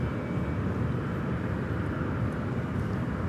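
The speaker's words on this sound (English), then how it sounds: "This takeoff is American Airlines 1022 off to Providence on the A319." An American Airlines Airbus A319 takes off, giving a steady, broad roar that stays loud and constant throughout with no voices over it.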